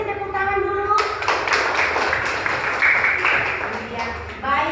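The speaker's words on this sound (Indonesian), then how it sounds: "kita kasih tepuk tangan dulu" Schoolchildren in a classroom clap together after a teacher's voice, with a burst of lively clapping that runs for about three seconds before the teacher speaks again.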